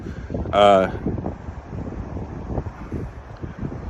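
Constant low rumble of wind buffeting the microphone, gusting in uneven surges, with a brief voice-like tone near the start.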